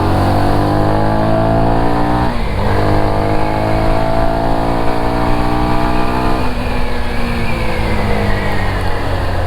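A CFMOTO 250NK motorcycle engine revs loudly and close by, its pitch climbing through two long sweeps and dropping sharply each time, with a steady idle rumble underneath and no voices.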